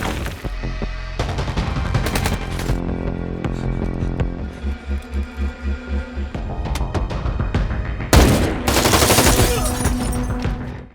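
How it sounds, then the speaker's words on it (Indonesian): Rifle gunfire from a film battle as soldiers and a sniper exchange shots around a house, with loud repeated shots and rapid volleys filling the scene and a pulsing rhythmic passage in between. "istrinya mencoba untuk melawan dengan menembaki tentara itu dengan senapan"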